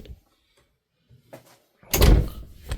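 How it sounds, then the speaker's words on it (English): A workshop door is pulled shut, first a few faint shuffling knocks, then a loud, close thump as it closes, followed by a softer knock. "let me close this door."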